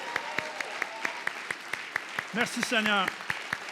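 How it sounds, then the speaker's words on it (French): Evenly spaced claps ring out at a joyful church service, with a voice speaking and calling out over them. "Encore une fois, une bonne main d'applaudissement et d'acclamation."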